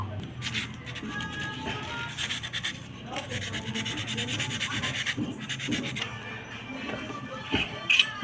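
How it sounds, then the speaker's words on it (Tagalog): Someone sands a part of a Panasonic electric fan that will not run and is grounded. Repeated scraping strokes rise and fall in an uneven rhythm, close and fairly loud, with brief pauses between passes. "Lihain muna natin to"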